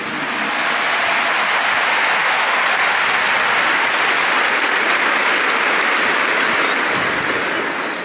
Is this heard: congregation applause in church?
yes